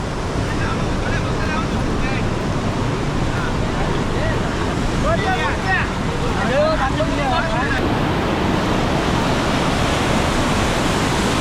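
Water roars through partly opened sluice gates at Pendur in Konkan, a steady, loud broadband rush with no breaks. Faint voices sit in the background.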